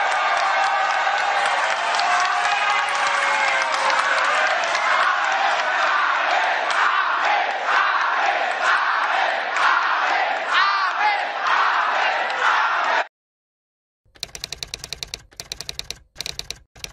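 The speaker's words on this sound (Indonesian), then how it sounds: "Kita berdiri memberikan aplaus kepada mereka berdua." A crowd stands and applauds two people in dense, sustained clapping with cheers rising through it, loud and close, then stopping abruptly and giving way to a few scattered sharp clicks.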